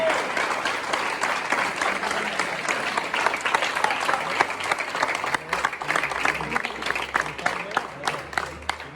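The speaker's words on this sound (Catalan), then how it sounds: "Un fort aplaudiment" A crowd at a family recognition ceremony claps in strong, continuous applause, many hands blending into a thick, even roar that holds for several seconds with slight flickers of individual claps.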